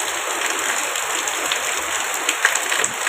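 Heavy rain pours down steadily at 1 a.m. after a month and a half of nearly constant rain, a dense hissing wash of drops striking surfaces close by, loud and even without any voices.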